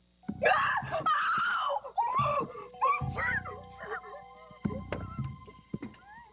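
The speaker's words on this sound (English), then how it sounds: "it sounded like a scream" A distant wailing scream rises and falls in several drawn-out cries, alternating with lower moaning bursts against a faint steady tone, with no clear speech.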